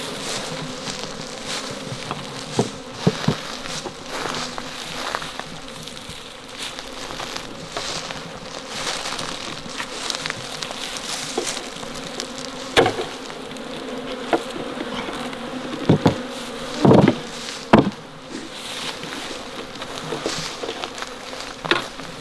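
Honey bees buzzing steadily while being moved from swarm traps into hive boxes outdoors, a dense continuous hum close by with scattered knocks and handling noises throughout, no talking.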